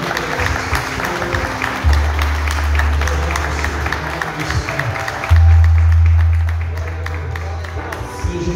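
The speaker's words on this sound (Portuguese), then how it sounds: "Vamos aplaudir a Deus pela vida" Church congregation applauding during a worship service, sustained crowd clapping with a brief spoken word and low rumbling bursts mixed in, tapering off toward the end.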